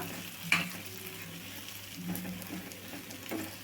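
Pieces of bitter gourd are stirred and fried in a pan with onion masala, giving a soft steady sizzle broken by a few scraping stirs of the spatula.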